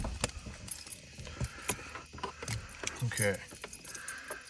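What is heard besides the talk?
car keys jangling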